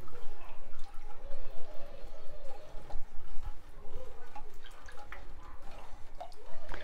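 Canned coconut milk poured by the tumbler into a rice cooker for coconut rice, heard as a soft, steady liquid pour with drips and light splashing, fairly quiet and close with no talking.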